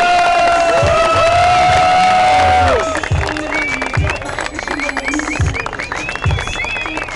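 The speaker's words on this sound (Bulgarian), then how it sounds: "Нека да изпратим дамите на Tuning BG, най-мокрите с вашите бурни аплодисменти" Crowd at the Tuning Auto Bild Show 2012 car show in Bulgaria cheers and applauds loudly; a dense roar of voices and whoops gives way to rhythmic clapping with shouts, close and busy, with people calling out over it.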